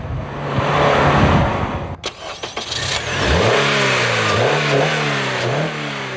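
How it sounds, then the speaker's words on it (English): A 200-horsepower high-revving Acura VTEC engine revs hard, drops off sharply, then climbs again through rising gear-like pitch sweeps, loud and close with no talking. "high revving, high performance engine using the VTEC technology"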